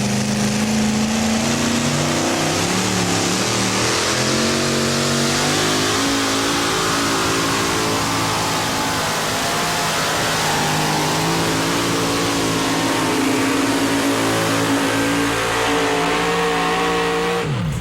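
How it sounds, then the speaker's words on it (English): A two-wheel drive pulling truck's engine screams at full throttle through a full 300-foot pull at a 1990 NTPA event in Pocono, Pennsylvania, loud and continuous with steady high revs and no talk. "Bud JASKE comes out right down the middle of the line, and they post the official distance of 300 feet of full pull"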